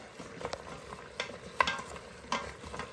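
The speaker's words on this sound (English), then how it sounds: "Let's mix it." Spoon stirring a pot of chickpea stew with carrots, several soft scraping and clinking strokes at irregular intervals over a low background hiss, fairly close and quiet.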